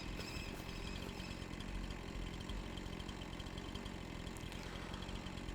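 Tractor engine idling in the Farming Simulator 25 game, a steady low mechanical drone with an even throb that holds at one level, faint and alone with no talk.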